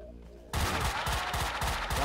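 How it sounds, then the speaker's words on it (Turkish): Pump shotgun blasts in Max Payne 2, a loud rapid run of about five or six heavy booming shots after a quiet start, packed close together over dense gunfire texture. "Ya pompalıyla hayvan gibi vuruyor ya"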